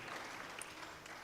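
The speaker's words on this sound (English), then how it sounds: "And I think you should clap for yourself." Audience at a mental health summit clapping for themselves, a faint, distant wash of applause that stays even and low throughout.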